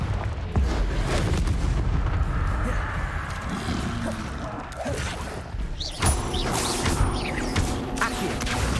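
In Hogwarts Legacy, the Confringo spell fires an explosive blast. Loud booming impacts burst out, with a sharp hit near the start and another around two-thirds through, surrounded by busy game combat noise and a voice.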